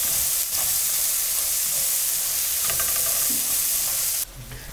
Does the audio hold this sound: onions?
yes